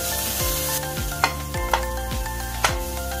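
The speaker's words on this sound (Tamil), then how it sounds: "ஒரு நிமிஷத்துக்கு கேரட் நல்லா வதங்கட்டும்." Carrot sautés in a pan with a continuous crackling sizzle, joined by a few sharp stirring scrapes and taps spaced roughly every half second.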